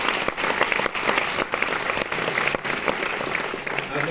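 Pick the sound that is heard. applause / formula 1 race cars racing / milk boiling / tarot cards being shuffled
applause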